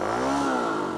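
Motorcycle engine held at high revs while the clutch slips during a wheelie practice, a loud, steady, close droning roar whose pitch rises slightly, then holds.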